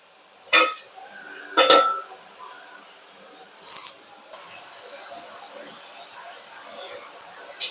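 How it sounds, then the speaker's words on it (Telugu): A lid is set onto a pot of cooking curry, giving two sharp metallic clatters close together early on, then a further clink and faint kitchen rattles with no talking. "మూత పెట్టేసుకుందాం."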